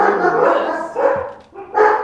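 Excited dogs bark and yip in quick bursts close to the microphone, a few sharp barks with short pauses between them.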